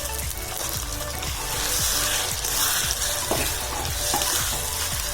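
Tomatoes frying in a pan with ginger paste for a Nellore-style goat head curry, a steady broad sizzle with scattered stirring clatters and faint splashy, watery noise throughout, close and fairly loud with no talk.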